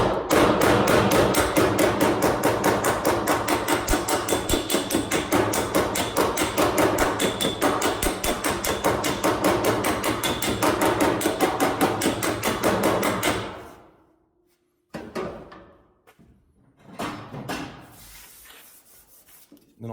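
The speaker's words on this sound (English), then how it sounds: "I'm taking the snap-on hammer and I'm sticking it on the inside." A Snap-on hammer pounds dents out of car body sheet metal from the inside in a fast, even run of loud, close, ringing blows for about thirteen seconds. Then it stops, and a few quieter scrapes and taps follow.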